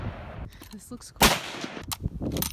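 A Mosin rifle fires a single loud, sharp shot at an outdoor shooting range, cutting through quiet talk from people nearby before and after the blast.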